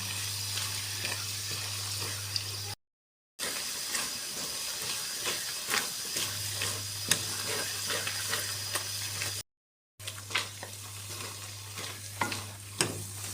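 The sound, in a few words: potato halwa being stirred and fried in ghee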